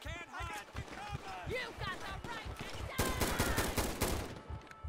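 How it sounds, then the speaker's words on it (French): Gunfire in GTA 5 with the LSPDFR police mod, scattered shots giving way to a dense rapid volley after three seconds, heard alongside excited talking voices. "il y a des coups de feu encore. Il y a des coups de feu là."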